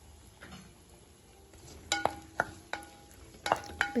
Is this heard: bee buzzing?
no